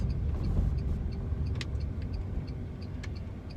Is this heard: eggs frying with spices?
no